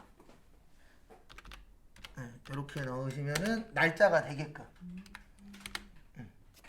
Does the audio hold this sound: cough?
no